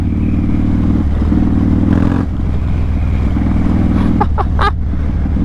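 Harley-Davidson motorcycle riding over a rough, potholed beach road, with a steady loud engine drone throughout, small shifts in revving and a few sharp rattling clatters near the end.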